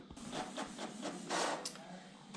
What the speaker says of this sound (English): we can do a print of a test page